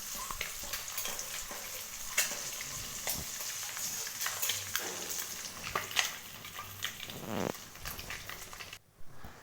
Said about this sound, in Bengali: এই যে ডিমগুলো ভেজে নিয়ে একটু ভালো করে ভেজে মাকে দিয়ে দেবো